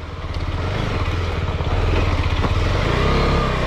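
A KTM motorcycle engine runs steadily on a dirt trail at Kailasagiri, a loud, close, continuous drone that swells slightly as it carries on, with no talk over it.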